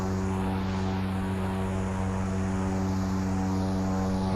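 Steady propeller drone of a King Air C90 GTx turboprop just after landing in the Aerofly FS2 simulator, a loud constant hum with strong tonal layers and a faint sweeping whine above, no talking.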